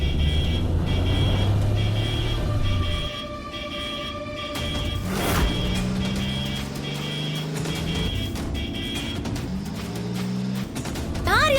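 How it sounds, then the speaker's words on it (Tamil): A car on a road, heard with a steady engine and traffic rumble that dips and rises as it moves, with a high electronic tone and occasional pitch-shifting engine swells; people speak over it briefly. "அவன் இப்படி வண்டி ஓட்டின்னு வந்து நிறுகிறான்."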